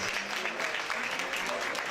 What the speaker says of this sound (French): Would you please take the time to applaud us?